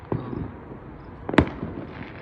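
Fireworks bursting over a Fourth of July celebration: one sharp, fairly distant bang near the middle, with a softer thump at the start and a low background murmur.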